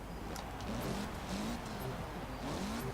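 Mitsubishi car engine in Forza Horizon 4, a low steady drone with faint fluttery turbo chatter and brief high hisses, quiet and continuous throughout.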